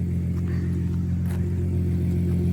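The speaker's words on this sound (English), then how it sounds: "We'll let it warm up and then give you some revs." A Toyota Chaser JZX100 with a 2JZ engine idles steadily while warming up, with a deep, constant rumble, close by, with only slight swells and no sharp revving.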